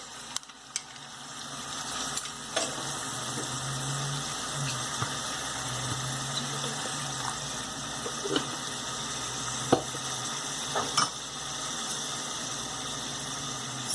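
Chickpea curry masala with tomato puree cooking in a pan, a low steady sizzle with a few light scrapes and clicks of a spoon stirring, close and fairly quiet, without speech.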